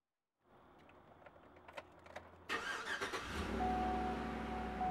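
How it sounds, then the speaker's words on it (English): A car, parked for a steering wheel repair, starts up: a few soft clicks and rattles, then the starter cranks, the engine catches and settles into a steady, close idle rumble, with no voices. "you'll have to crank up the vehicle and give that wheel a spin around"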